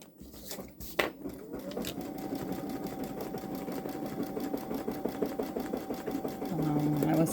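A Babylock Solaris Vision Journey embroidery machine stitches a butterfly design onto a stretchy sweater, giving a fast, steady mechanical chatter with a sustained motor whine, heard close and continuous after a couple of brief clicks at the start.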